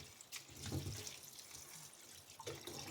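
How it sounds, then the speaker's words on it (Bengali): Small mourola fish are rubbed and washed by hand in water in a strainer, giving soft splashing and trickling with a few louder sloshes, close and quiet, with no voices. "ঝুড়ি বা ছাঁকনির মধ্যে নিয়ে ভালো করে সাত থেকে আটবার মাছগুলোকে ভালো করে কচলে কচলে ধুয়ে নিতে হবে"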